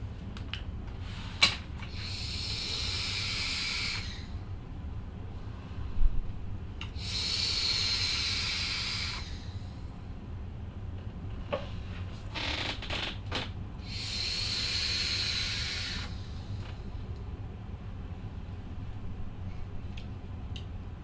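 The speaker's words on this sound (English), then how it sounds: "So this is full, 140 watts, and let's take this for a vape." A SMOK TFV4 sub-ohm tank filled with Milkman e-liquid fires at 140 watts, giving three long hissing, crackling draws of a few seconds each, separated by quieter breathing and small mechanical clicks.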